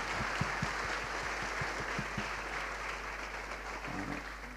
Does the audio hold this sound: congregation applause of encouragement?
yes